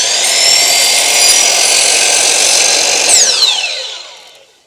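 A power saw whining loudly through a wooden stair riser in one steady cut, close up, then spinning down and fading away at the end.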